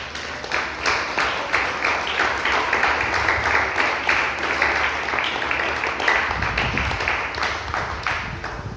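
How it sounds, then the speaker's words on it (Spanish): A church congregation applauds during a sermon, a dense, steady wash of clapping that carries on without a break for the full stretch, with a low rumble beneath it. "Denle un fuerte aplauso al Señor, hermanos."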